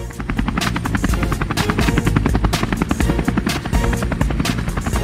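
A police helicopter's rotor chops rapidly and steadily overhead, loud and continuous with a buzzing engine tone underneath.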